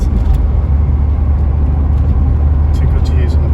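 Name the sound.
1985 Ford Escort RS Turbo driving on country roads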